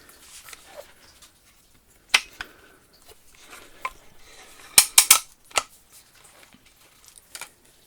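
Air Arms TX200 air rifle, said to have gone buzzy, firing a string of sharp, close shots: several crisp cracks spaced a second or so apart, with quieter clicks and handling noises between them.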